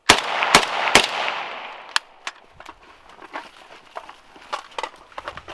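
An AK rifle fires three loud, sharp shots close together, followed by a series of fainter scattered cracks and echoes from the range, with no talking.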